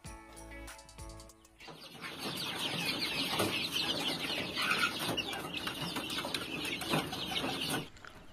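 Flock of Kedu, Barred Rock, Australorp and PS layer hens clucking and cackling close by, a busy continuous chorus of overlapping calls after a short quieter opening.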